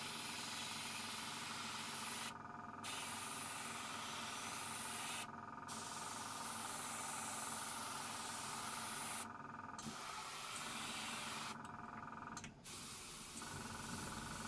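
A cheap Spirit Air 180 airbrush with a 0.2mm needle, an Iwata knock-off, sprays in a steady airy hiss, broken by a few short pauses, faint and close.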